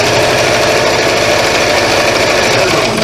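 A sewing machine runs fast at speed setting 3 while ease-stitching a seam, giving a loud, steady motor whir with a continuous mechanical chatter that holds unbroken throughout.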